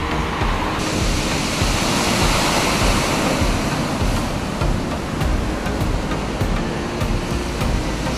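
Stormy winter sea at Alanya, Turkey, churns in a loud, continuous roar of surf mixed with wind buffeting the microphone, with no talk.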